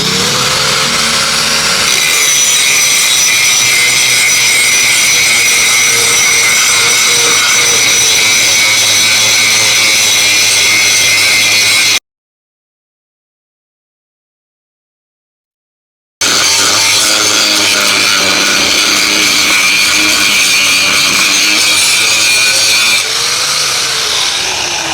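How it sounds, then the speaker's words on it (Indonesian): A DongCheng DSM125A 5-inch electric angle grinder fitted with a stone grinding disc, loud high-pitched whine running steadily near the mic, cutting out abruptly for about four seconds, then spinning back up and continuing; no talking. "saya menggunakan mata yang 5 in untuk mata batu gerinda"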